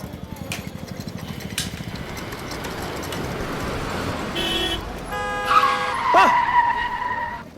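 A car approaches in traffic, its engine building and then roaring past very close with a sharp skid-like squeal and a horn blaring near the end. A voice speaks briefly partway through.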